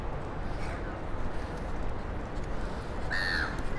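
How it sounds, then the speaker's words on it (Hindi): A single seagull call rings out near the end over a steady wash of street, tram and traffic noise in Sydney. "सीगल्स"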